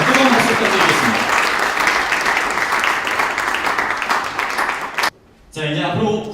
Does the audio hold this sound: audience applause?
yes